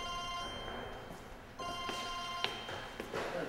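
A telephone rings in a quiet room, its tonal ring repeating steadily for a few seconds with faint background noise and no talking.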